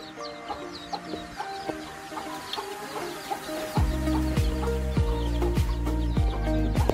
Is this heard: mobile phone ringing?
no